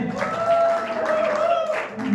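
An audience at a stage show in Suratgarh applauds a performer, a dense wash of clapping mixed with a sustained sung or played tone and some voices.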